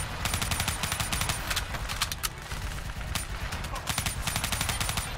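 Rapid automatic gunfire in the Black Ops 3 shooter video game, dense bursts of rattling shots nearly continuous, with a brief lull in the middle before the firing resumes.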